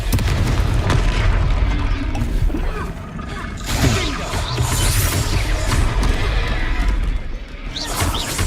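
A Confringo fire spell erupts in Hogwarts Legacy during a troll fight, a loud sustained blast with crashing and whooshing magical effects layered over game noise and voices.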